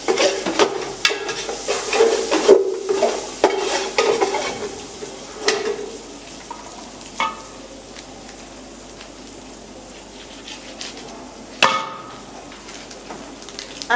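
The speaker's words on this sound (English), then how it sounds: "Stir it a bit." Spoon stirring meat pie filling with thyme in a pan, scraping and clinking against the metal with soft sizzling underneath, busy at first and then quieter with occasional knocks.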